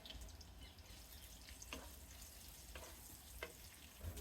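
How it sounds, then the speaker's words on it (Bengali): Two large chopped onions frying lightly in oil in a pan, a soft steady sizzle with a few faint clicks and stirring touches, quiet and continuous with no talk. "পেঁয়াজগুলোকে আমি হালকা ভেজে নেব"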